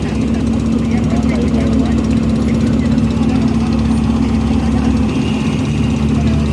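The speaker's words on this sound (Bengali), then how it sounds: "নিচে ফেরি চলে আসছে অলরেডি।" A ferry engine rumbles as the vessel arrives at the Lichu Bagan ferry jetty on the Karnaphuli River at Kaptai. The deep hum is steady and loud and continues throughout with a constant low drone.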